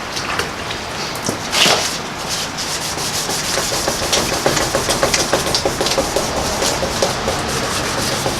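Steady back-and-forth hand sanding of a car headlight lens, close and rhythmic, with a faint engine-like hum underneath.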